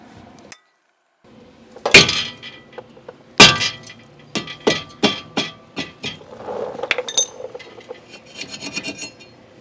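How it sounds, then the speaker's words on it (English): A hammer strikes a stuck front brake rotor on a 2003 Toyota Camry 2.4L. Sharp metallic whacks land close and loud, two heavy blows followed by a quicker run of lighter hits, with scraping and clinking in between. "give it another whack with the hammer, tighten them down a little bit more, give them another whack with the hammer"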